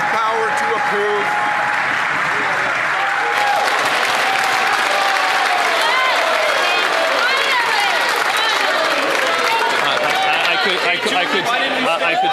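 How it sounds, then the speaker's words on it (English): Members of a parliamentary chamber applaud during Question Period, loud sustained clapping mixed with crowd chatter and desk noise, with speech present underneath. "In the business, it's called an applause line"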